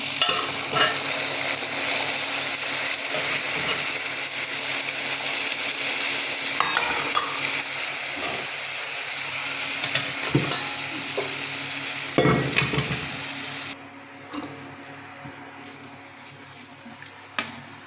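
Onions fry and sizzle loudly in a pot as lentils (dal) go in, with stirring scrapes and squishy splashes; the sizzle drops sharply near the end, leaving quieter bubbling and occasional clinks.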